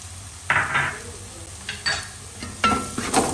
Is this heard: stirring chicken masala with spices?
yes